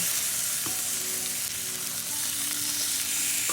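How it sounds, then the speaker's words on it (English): Stuffed jerk chicken breasts sear in a hot pan, giving a loud, even sizzling hiss that holds steady close by without any speech. "We're just going to get a good sear and char on top first and flip it and then put it on the pan"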